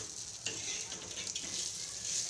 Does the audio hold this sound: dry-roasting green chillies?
yes